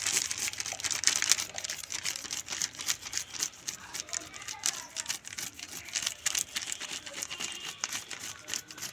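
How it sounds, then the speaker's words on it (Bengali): A fork scraping scales off a large fish, rapid crackling scratches repeating in uneven bursts close to the ear, fairly quiet and continuous. "একটা কাঁটা চামচ নিয়েছি, এইভাবে আঁশগুলো ছাড়িয়ে নেব"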